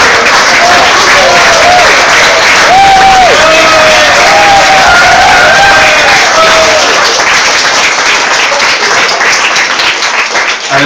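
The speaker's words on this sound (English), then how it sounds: "I've got a round of applause, please" Wedding guests applauding after a speech for Paul and Emma: loud, close, sustained clapping from a room full of people, with whoops and cheering voices mixed in, tapering slightly at the end.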